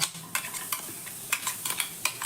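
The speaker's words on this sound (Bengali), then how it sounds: "বাটা ডালটা দিয়ে দেওয়ার পর খুব ভালো করে মশলার সঙ্গে একটু মিশিয়ে নেব" Ground chana dal fries over a low flame with ginger and spices while a spoon scrapes and stirs it in the pan, giving soft sizzling and a series of short irregular scraping strokes, close and fairly quiet.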